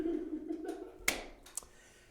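A single sharp hand clap rings out in a quiet room, followed a moment later by a softer, fainter clap, with a low murmur of voice at the start.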